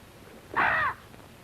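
A single crow-like caw from a bird, harsh and fairly loud, lasting under half a second against a quiet background.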